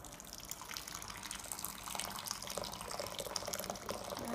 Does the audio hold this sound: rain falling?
no